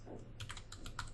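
A short burst of soft keystrokes on a computer keyboard, a handful of quick clicks as an AI prompt is typed, quiet and close with no talking.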